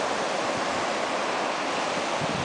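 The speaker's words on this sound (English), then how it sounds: "Sound of the water." Waves wash over a sandy shore in a steady, unbroken rush of surf, close and even in loudness throughout, with no voices.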